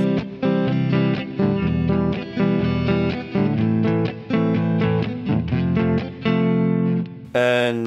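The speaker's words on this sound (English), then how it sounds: "When you strum the guitar with a single coil, it sounds quite like this" Strummed Paul Reed Smith S2 Custom electric guitar chords on a single-coil pickup ring out in a steady rhythm, bright and twangy, with repeated strokes over several seconds before a brief noisy cutoff at the end.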